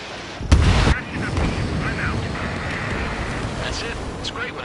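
An enemy bomber exploding in Ace Combat 7, a loud close boom followed by a sustained roaring rumble of jet engine and wind, with radio voices talking over it.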